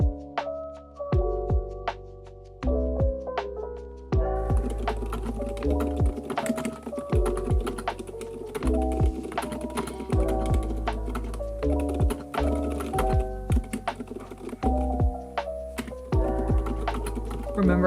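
Fast typing on a computer keyboard during a writing session, a close run of crisp key clicks with irregular bursts and short pauses, a few sparse taps first and then a dense continuous clatter.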